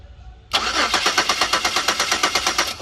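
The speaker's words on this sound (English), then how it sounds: "let's go ahead and try crank it over" A Pontiac Grand Prix engine cranks over without starting, the starter churning in a steady, rapid rhythmic whir of evenly spaced pulses that kicks in abruptly after a brief quiet moment and runs loud and close to the end.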